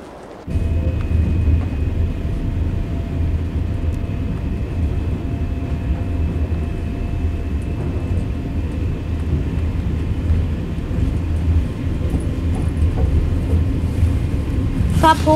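A train rumbles steadily through the entire stretch in East Germany around 1981, a loud continuous low roar with faint rattling and a brief sharper clatter near the end, no talk over it.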